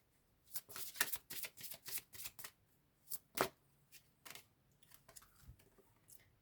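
Tarot cards are shuffled in quick riffling bursts, then individual cards are drawn and laid down with softer taps and slides, close and quiet with no talking.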